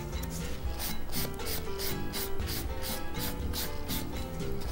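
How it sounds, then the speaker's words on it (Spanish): A nail file rubbing in steady one-directional strokes on a fingernail during a manicure, roughly a dozen even scraping passes in quick rhythm, close and clear with no talking. "Y siempre limando hacia un lado."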